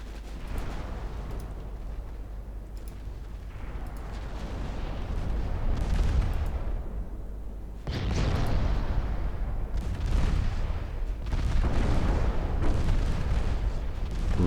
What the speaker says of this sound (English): AP main guns.